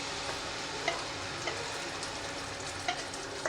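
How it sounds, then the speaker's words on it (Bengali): Ground spice paste frying with crab in a pan gives a steady close sizzle and crackle, with a few light clinks of a spoon stirring, and no talk. "এবার এই বাটা মশলাটা দিয়ে দেব।"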